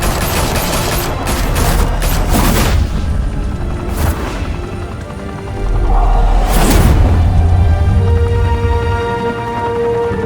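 Loud gunfire from the Batman Telltale Series game: dense, overlapping salvos of shots and heavy booms over a constant low rumble, in two big waves, close and forceful, with no speech.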